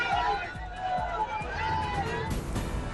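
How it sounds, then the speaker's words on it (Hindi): A large crowd gathers at Baidyanath Dham temple in Deoghar for a sermon by Pandit Dhirendra Shastri. Steady, dense babble of many voices surrounds the listener, with scuffing footsteps and bustle throughout. "प्रवचन सुनने के लिए उमड़ी लोगों की भीड़"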